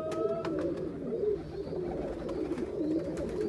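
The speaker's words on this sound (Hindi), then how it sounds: "लंबे साइज़ का कबूतर है ये" Long-sized breeder pigeons coo continuously with soft, rolling, throaty calls close by, forming a steady murmuring backdrop.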